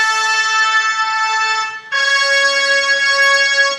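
Clean, bright brass horns from the Anthem Brass plugin play two sustained chords, one after another with a short dip between them. The tone is full and steady, with no voices.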